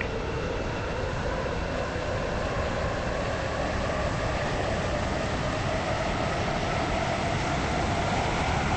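A class 717 train on the Stepford Connect service runs steadily in the Stepford County Railway game, giving a continuous loud rumbling roar with a droning motor tone and no breaks.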